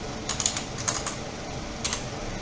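Someone types CSS code on a computer keyboard, giving quick soft clicks in small clusters over a steady background hiss.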